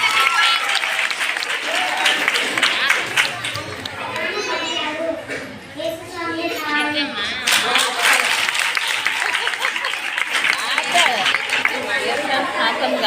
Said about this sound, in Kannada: ಜೋರಾಗಿ ಚಪ್ಪಾಳೆ ತಟ್ಟೋಣ.